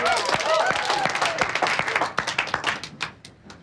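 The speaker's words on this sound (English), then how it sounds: "Okay, good work, class. Give yourselves a clap." A small exercise class claps for itself after a stretching session, a brief burst of scattered handclaps that starts dense and thins to separate claps, with an instructor's voice and other talk over it.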